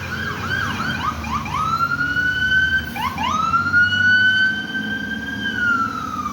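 A private ambulance siren wails on a street in Boston, its warbling and rising-falling tones loud and steady as the vehicle passes by, with low traffic rumble underneath and no voices.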